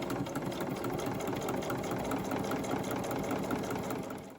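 A sewing machine hums steadily as it stitches around the edge of a journal page, a continuous close whirring drone that fades out at the end.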